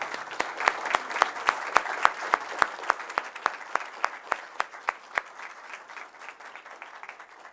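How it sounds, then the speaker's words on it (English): Applause at a Coweta County school board meeting honoring Easton Mascara: a modest room of clapping with one loud, close, steady clapper standing out in a regular rhythm, fading toward the end. "please give a round of applause for Easton Mascara"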